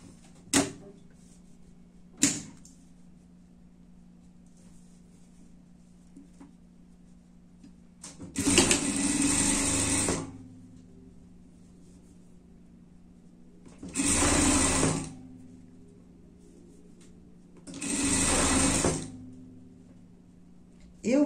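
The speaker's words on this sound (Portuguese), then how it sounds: "Eu vou fazer lá na overlock, é mais rápido." An overlock sewing machine runs a safety seam on a small pig-costume pet outfit in three whirring bursts of about two seconds each. Two sharp clicks come first, and quiet room noise fills the pauses.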